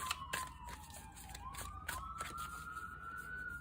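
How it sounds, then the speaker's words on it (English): An emergency siren wails faintly outside, its pitch slowly sliding down and then climbing again as it passes in the distance, steady behind a quiet room. "sorry guys about the siren."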